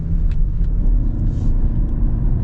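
A 2025 Toyota Camry AWD hybrid accelerates with a steady low engine and road rumble heard from inside the cabin, loud and continuous.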